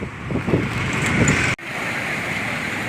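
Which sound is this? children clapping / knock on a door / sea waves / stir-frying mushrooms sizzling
sea waves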